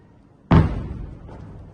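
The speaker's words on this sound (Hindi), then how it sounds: "रात के दौरान जो है धमाके हो रहे हैं जोरदार हवा में।" A single heavy boom from an air defense interception explodes in the night sky over Tel Aviv, hitting suddenly and then rolling off into a long, rumbling decay.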